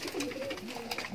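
Soft pigeon coos up close from a cage, a few low throaty calls rising and falling over a faint background hum.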